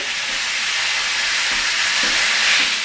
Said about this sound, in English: I'm just kind of dicing up the ground beef like so that it's down and is able to really cook properly.